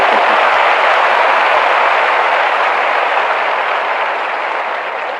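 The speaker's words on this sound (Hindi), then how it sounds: "ताली बजाइए, हंसिए।" Steady, loud applause from a large crowd at an official event in Bihar where the Chief Minister hands out appointment letters. It runs continuously for about five seconds and fades slightly toward the end.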